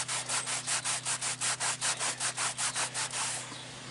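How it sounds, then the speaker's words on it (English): A rag scrubs hard against 1997 big truck brake shoes in quick, even back-and-forth strokes, about fifteen rhythmic rubbing swipes over a low steady hum, close and clear with no talk. "We're still getting fingerprints on the rag when I scrub it, but not as much."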